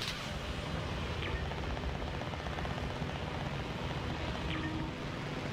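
A steady, droning roar of an airplane in flight in the video game Call of Duty Warzone, continuous and fairly faint with a broad engine rumble and no talking.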